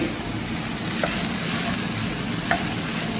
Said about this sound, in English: And you go on stirring.